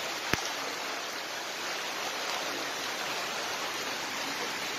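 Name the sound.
flash flood water flowing past a house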